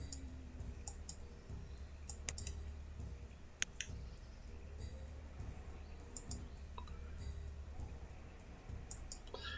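Computer mouse clicks come in sparse, quiet pairs and single taps during a game of Banished, scattered over a low background hum.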